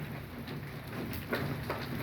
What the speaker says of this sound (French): Petit orage modéré du coup, orage de grêle,